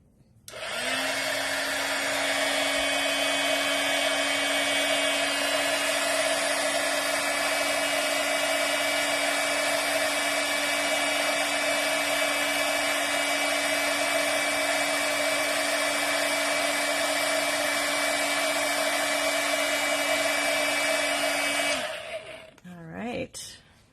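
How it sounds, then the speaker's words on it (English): A crafting embossing heat tool runs with a loud, steady blowing whine held for over twenty seconds, then switches off and winds down with a short falling tone. "So I usually turn my embossing tool on"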